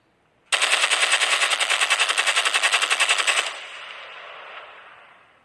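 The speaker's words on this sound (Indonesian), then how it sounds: "Suara tembakan yang begitu jelas membuat seluruh penduduk kaget tak karuan" Gunfire sound effect: a loud, rapid automatic burst of shots fires steadily for about three seconds, then cuts off and leaves a fading echo tail.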